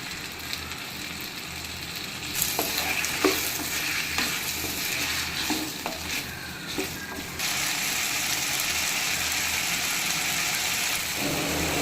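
Cubed eggplant frying in oil with turmeric and salt is stirred in a pan, producing continuous sizzling with repeated scraping and clinking strokes, the frying growing steadier and louder in the latter half.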